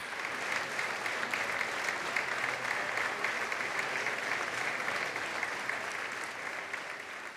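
A room full of people at a film festival awards ceremony claps steadily, a dense, even wash of applause that holds throughout before easing slightly at the end.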